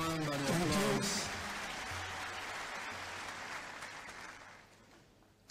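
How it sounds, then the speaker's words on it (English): Audience applause at a formal address by Liberia's president, loud and sustained for about five seconds and fading slightly toward the end, with a voice briefly heard over the clapping at the start. "I am humbled and overwhelmed by the applause."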